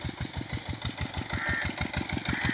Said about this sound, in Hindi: और ये रहा इंजन जो चल रहा है वहाँ पे